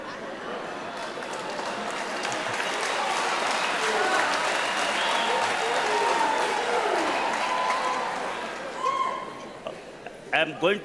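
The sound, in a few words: graduation audience clapping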